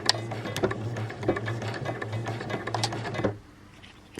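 A domestic sewing machine runs steadily, stitching a back tack on patchwork fabric, with a continuous motor hum and rapid needle clatter that briefly pauses and shifts rhythm before stopping abruptly near the end.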